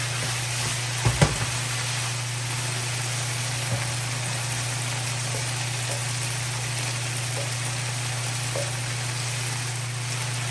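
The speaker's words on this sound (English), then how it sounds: "now I'm going to go ahead and add my garlic" Garlic sautéing in a pan for chicken chop suey gives a constant, even sizzling hiss over a low steady hum, with a couple of faint clinks early on.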